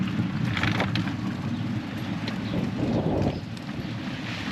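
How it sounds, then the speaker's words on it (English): Steady wind in a quiet town in Bolivia rushes and buffets close against the microphone in a continuous low roar with soft gusting swells, no voices or other activity. "where you can only really hear the wind"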